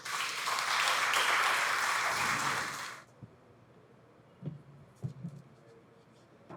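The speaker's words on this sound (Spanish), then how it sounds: "pido un fuerte aplauso para él" An audience at a lecture applauds loudly for about three seconds, then the clapping stops abruptly. A few faint knocks and rustles follow in a quiet room.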